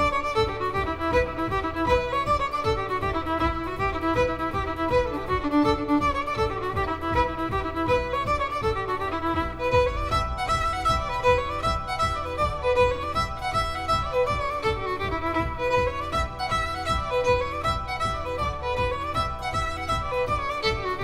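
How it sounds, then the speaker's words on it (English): A fiddle plays a lively traditional tune, with steady rhythmic bowing and bright sustained melody lines running continuously and alone at moderate volume. "The fiddle sounds like this."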